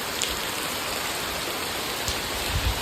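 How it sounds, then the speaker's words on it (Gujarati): Steady rain falls outside with a continuous, even hiss that stays close and fairly loud, and a few heavier drips land near the end; no one speaks. "વરસાદ ચાલુ થઈ ગયો, બહાર જોવો"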